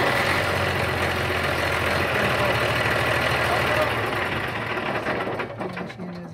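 Diesel engine of a Caterpillar 140H motor grader with a faulty fuel shutoff solenoid, running at a steady, loud, close-up rumble that fades and becomes uneven near the end.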